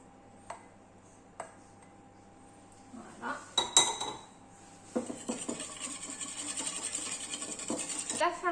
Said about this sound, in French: On va mélanger. Le beurre fondu que j'avais fait fondre juste avant